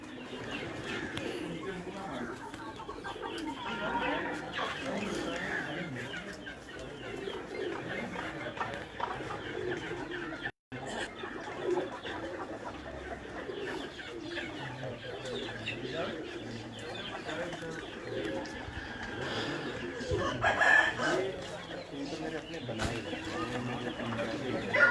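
Pigeons coo and roosters call in a loft or yard, soft bird sounds that continue through the whole stretch under someone speaking almost constantly.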